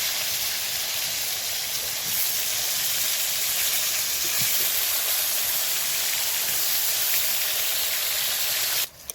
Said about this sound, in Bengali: এবার পটলগুলো এক এক করে আমি ভেজে নেবো।